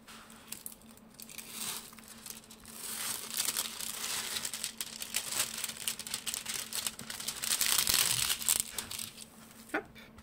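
Sheet of paper crinkled and pressed flat by hand, likely packaging from a diamond painting kit, giving a continuous close rustling and crackling that swells toward the end, with no talking.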